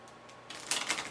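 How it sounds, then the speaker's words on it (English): A quick, soft flutter of playing cards being riffle shuffled, a short crackling burst close by in a quiet room. "that sound you hear, if you can't see it, it's the sound of the cards being shuffled"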